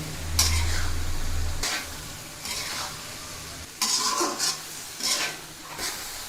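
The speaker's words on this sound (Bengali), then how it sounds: "এখন নেড়ে চেড়ে এই আলু আর কপিটা একটু কষিয়ে নেওয়া হবে" Potato and cauliflower pieces stir-fried with spices in a pan, a low sizzle broken by repeated scraping strokes of a spatula, several distinct stirring bursts spaced a second or so apart.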